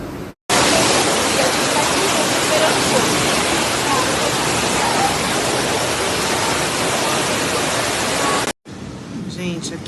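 Floodwater rushes during a São Paulo storm as a loud, dense, continuous roar that holds steady for about eight seconds, then cuts off abruptly.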